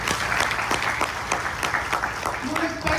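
An audience at a motivational network-marketing event in Patna breaks into loud, dense clapping that continues steadily throughout, close and full, with a voice briefly heard over it.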